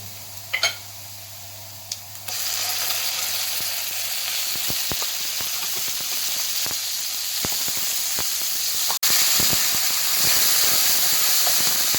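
Garlic, whole cumin and yogurt sizzle loudly in hot oil in a karahi pan. A few faint clinks come first, then a steady, dense frying hiss runs throughout, with scattered pops and one sharp tap near the end.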